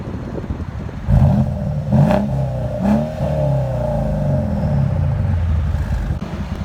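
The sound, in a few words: Mercedes CLS 550 twin turbo 4.7L engine revving, straight pipes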